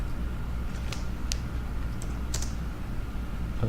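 Rapid typing on a computer keyboard, a close, steady patter of key clicks with a few sharper strikes, over a low background hum.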